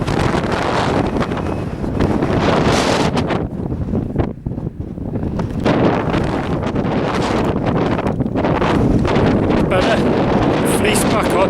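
Strong wind gusting across an exposed Welsh hillside on Moel Dywyll, heavy buffeting roar on the microphone that surges and briefly drops before returning, close and loud throughout.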